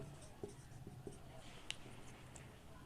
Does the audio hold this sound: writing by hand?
yes